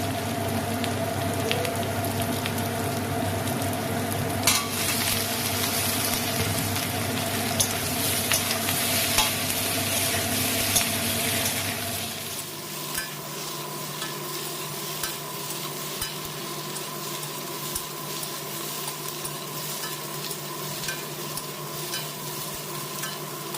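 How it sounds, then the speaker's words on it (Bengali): Boiled potatoes fry in hot oil in a pan, with a loud steady sizzle and stirring scrapes that ease into a quieter, crackling fry partway through. "এবার এর মধ্যে দিয়ে দেবো সেদ্ধ করে রাখা আলু।"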